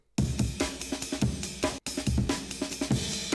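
A chopped drum break with a crash cymbal plays loud and alone, the rapid kick, snare and hat pattern washed by crash hits, stopping briefly for a short gap before the break restarts.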